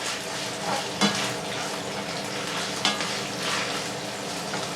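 Chorizo, chicken and bacon sizzle and fry steadily in olive oil in a pan, a dense constant crackle with a couple of sharper knocks as the pieces are stirred and moved about.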